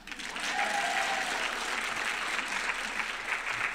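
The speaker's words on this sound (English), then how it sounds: "Please so signify your presence by clapping for Dr." Dense applause from a seated group of community members at the University of Iowa Carver College of Medicine white coat ceremony, steady clapping that swells quickly and holds at an even level.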